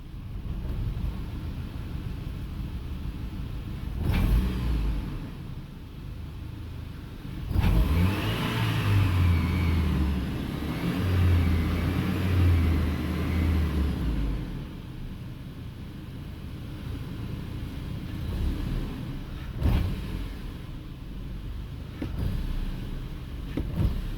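A 2008 Chevy Colorado engine, freshly fitted with new spark plugs, revs up in several strong bursts, rising and falling close by with a steady idle between the revs and no talking.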